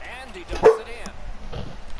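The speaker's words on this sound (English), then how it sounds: "Stop barking at the lizard." A dog barks at a lizard, one or two short yips rising briefly above loud hockey video game commentary and crowd noise, with a voice talking around it.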